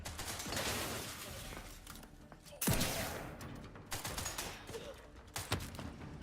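Combat gunfire in the video game The Outer Worlds, with scattered shots and one sharp, loud impact standing out midway, amid a noisy background of further bursts.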